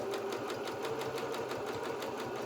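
A sewing machine stitches a felt doll's duffle coat, running at a steady, rapid mechanical rhythm with a continuous whirring hum and even, regular needle clicks throughout.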